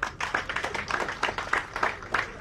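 A crowd claps for visiting members of parliament at a public address, a steady run of close, crisp hand claps lasting a couple of seconds with no talk over it.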